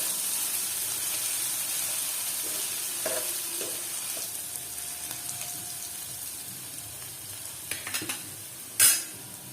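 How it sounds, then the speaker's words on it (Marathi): Onion frying with chili-garlic chutney in a pan for a black moong dish, a soft continuous sizzle with occasional spatula stirs and scrapes, faint and close, ending in a sharp louder clack. "परत 1 मिनिट हा कांदा आपण असाच भाजून घेऊया"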